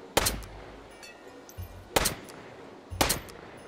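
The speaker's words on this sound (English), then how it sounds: "So this is basically like the perfect Plinkin pistol in the game." Three sharp pistol shots fired at targets in the VR shooting game H3VR, evenly spaced and loud, with quiet handling noise between them.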